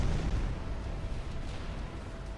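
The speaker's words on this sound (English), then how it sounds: "A city has been bombed." A city is bombed in the ICBM Escalation strategy game: a heavy, rumbling explosion roars loud at first and then slowly decays into a sustained low boom.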